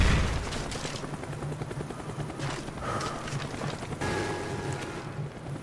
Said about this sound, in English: God, the helicopter's been up there for a while.